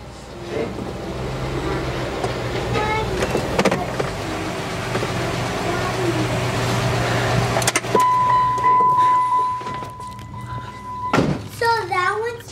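A car is put into drive with one wheel lifted off the ground, its engine and drivetrain humming steadily while the free wheel spins, with a clunk partway through and people talking over it.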